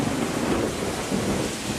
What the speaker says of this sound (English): When it rains, when you're in a storm,